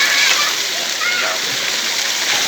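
Clear, free-flowing mountain spring water spilling over as overflow at a resort pool in Pangasinan, a steady, loud rush of splashing water with no break, close by.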